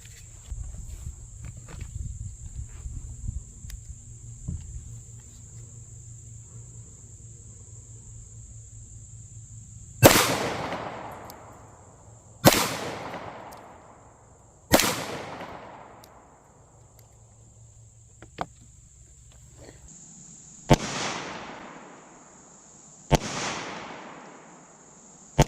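Five or six loud, sharp 9mm pistol shots crack at irregular intervals as they are fired into concrete blocks outdoors, each one leaving a short ringing decay. A steady insect-like hum runs underneath.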